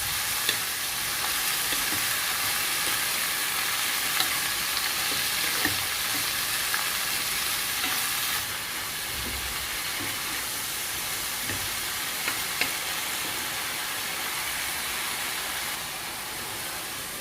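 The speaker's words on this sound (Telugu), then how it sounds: "పాలకూరని కొద్దిగా వేయించుకుందాం." Spinach fries in a pan with a loud, continuous sizzle that drops slightly about halfway through, broken by occasional light stirring clicks. No one speaks.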